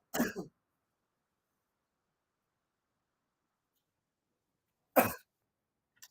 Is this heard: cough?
yes